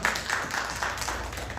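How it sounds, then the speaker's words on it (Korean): A congregation claps during a Sunday youth-group church service, a dense, steady patter of hands for under two seconds with faint room hum beneath and no clear talk. "우리 하나님께 영광의 박수 올리도록 하겠습니다."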